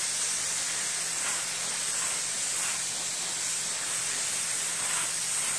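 Epoxy primer sprayed from a can onto bare spots in gouged, chipped car paint, a steady close hiss with faint pulsing as the nozzle sweeps, continuous and alone.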